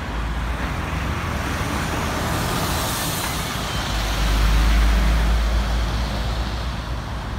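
Road traffic passes a bus stand near Dagenham Docks, with a steady loud roar of engines and tyres and a deeper heavy-vehicle rumble swelling midway, with no talking.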